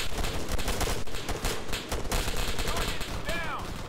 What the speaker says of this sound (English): Going full auto here.